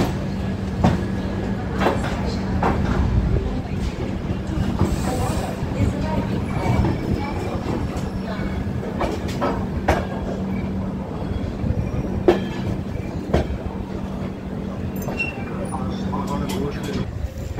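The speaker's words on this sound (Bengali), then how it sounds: "এইখানে আমাদের ট্রেনের সাথে বিকানের দুরন্ত এক্সপ্রেসের সাথে অমৃত ভারতের রেস হচ্ছে, প্যারালাল রেস।" The Duronto Express from Sealdah to New Delhi rolls along the rails with a steady rumble and repeated clacks of wheels over joints, running parallel to a passing Amrit Bharat train, heard from on board.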